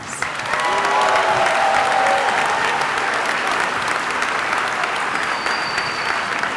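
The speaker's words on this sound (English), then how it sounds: "Can we give them a round of applause?" Audience applause at a commencement ceremony fills the hall, steady and dense from start to finish, with a few faint whistles or voices rising above the clapping.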